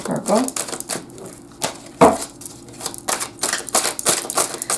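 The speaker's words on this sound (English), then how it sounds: "now I'm going to lay out the cards" Tarot cards are laid out on a surface with close, sharp snaps and slaps. The hits come in irregular bursts and fall between stretches of a person talking.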